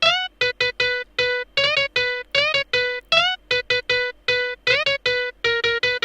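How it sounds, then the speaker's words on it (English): A dry 'distorted piano' synth preset in FL Studio, heard without effects, plays short staccato chords with gliding pitch bends in a syncopated pattern, clean and upfront with silent gaps between hits. "It calls distorted piano, but this is not really distorted piano."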